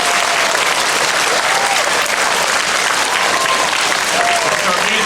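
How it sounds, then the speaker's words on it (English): An audience at a Lincoln Elementary school event claps in loud, dense, sustained applause, with voices mixed in beneath the clapping. "let's give her a round of applause"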